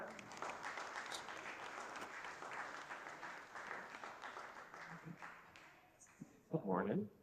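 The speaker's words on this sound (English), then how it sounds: "So an applause for Lisa." A conference audience claps in a steady, moderate round of applause that thins out near the end, followed by a brief burst of talk.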